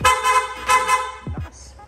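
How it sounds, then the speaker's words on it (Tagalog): A PIAA loud horn fitted to a Yamaha Nmax v2 scooter gives two loud, brassy blasts close by, the second shorter than the first. A voice follows. "pa-activate naman ng loud horn"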